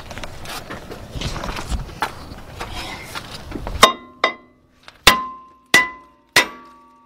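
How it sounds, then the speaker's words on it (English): Five sharp metallic hammer blows ring out on the rear brake parts of a 2003 Ford Explorer 4.0, each strike leaving a brief clanging decay, after a stretch of muffled shuffling and knocks. "It's time for the Thor's hammer"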